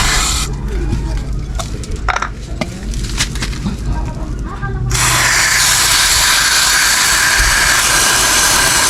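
An aerosol cleaner hisses onto a bicycle's brake and chain, a loud close spray that starts in short bursts and then turns into one long continuous blast.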